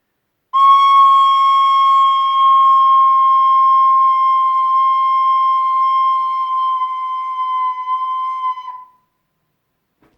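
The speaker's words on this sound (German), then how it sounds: "wo dann von selbst der Piepton entsteht in der Flöte" A recorder holds one sustained tone with a thin, beep-like squeak riding on it, loud and steady for about eight seconds before stopping, played alone without talk.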